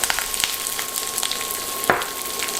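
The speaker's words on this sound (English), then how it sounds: "Now into that going to add the curry leaves and the garlic, then the onions" Curry leaves, garlic and onions stir frying in oil in a pan, a close, steady crackling sizzle with a few spoon taps and one sharper clack near the end.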